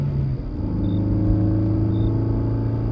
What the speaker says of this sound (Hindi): तभी सामने से एक गाड़ी आती है।